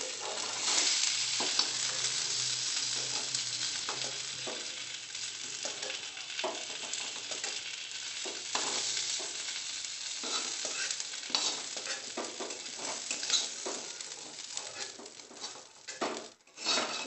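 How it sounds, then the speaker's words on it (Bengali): Potatoes fry in oil in an old kadai while a spoon stirs them, giving a close, continuous sizzle broken by repeated scraping strokes and taps against the pan. "তেলে সাঁতলে তারপরে আলুগুলো ছেড়ে দেবো।"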